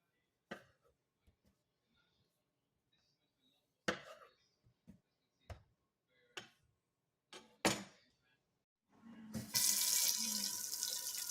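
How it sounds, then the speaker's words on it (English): Tap water runs into a pot in a kitchen sink while pretzels are being made, a steady bright rush beginning near the end after several sharp clinks and knocks of kitchen handling. "Next, fill a pot with about 6 cups of water."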